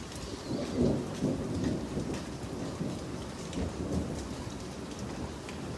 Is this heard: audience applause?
no